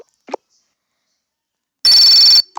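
A telephone rings once in a single loud electronic burst while a call to a friend is placed, with brief faint rustles before and after.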